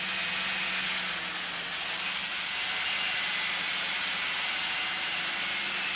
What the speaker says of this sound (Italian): Sono i motori dei carri armati, li tengono accesi tutta la notte.